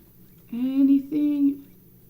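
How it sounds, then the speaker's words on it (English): A person whistles two sustained rising-and-falling tones, close and fairly loud, each lasting about half a second with a short break between, while calling out to a character in the game Dinkum. No speech is heard. "maybe if I whistle for him,"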